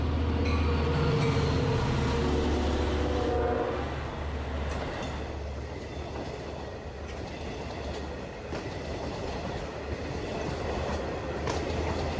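The Long Island Rail Road's Cannonball, a diesel train, passes through Patchogue station with a loud engine rumble that fades into the rhythmic clatter and squeal of the cars rolling by close at hand.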